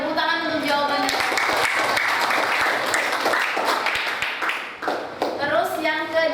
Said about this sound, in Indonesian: Oke, tepuk tangan untuk jawabannya.